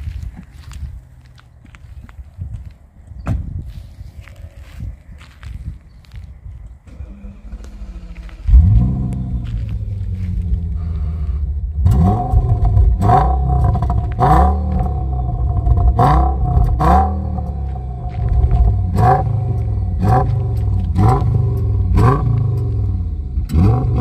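A TDI car engine with its silencers removed cranks and fires, then idles and is revved repeatedly in a steady series of loud, deep blips, each rising and falling, up close and with no talking.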